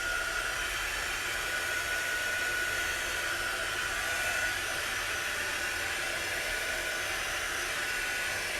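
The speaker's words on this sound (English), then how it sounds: "let's bring our dryer in here and kind of carefully dry" A hair dryer runs steadily to dry a chalk paste transfer, a constant close, even whoosh of blown air with a faint whine, with no break or change across the whole stretch.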